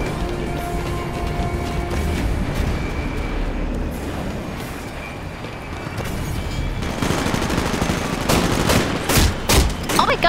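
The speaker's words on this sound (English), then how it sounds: "someone's shooting me!" Gunfire in the shooter Titanfall, sustained bursts of rapid shots over busy battle noise, building to sharper, louder cracks near the end.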